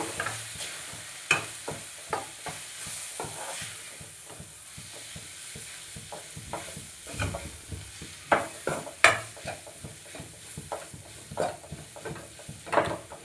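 Mushroom gravy fries in a pan with coriander powder and spices, a steady low sizzle broken by frequent rhythmic scrapes and knocks of a spoon stirring, close and moderately loud, with no voices.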